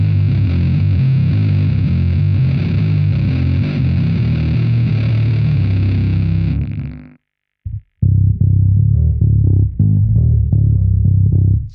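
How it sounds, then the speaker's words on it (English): A heavily distorted bass guitar through a Line 6 Bass Pod XT Live drones loud and thick, cuts out briefly with a short stab, then returns with choppy, gritty notes. "That's not a bad distortion right there."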